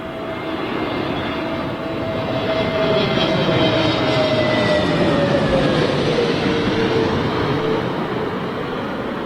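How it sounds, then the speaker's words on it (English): An SAS Airbus A320neo arrives on runway 27L at Heathrow, a loud, close jet roar with a clear engine tone that bends lower as the plane passes overhead. "Okay, SAS 320 Neo."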